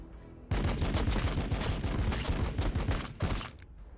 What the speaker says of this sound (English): Let's shoot them in the back first.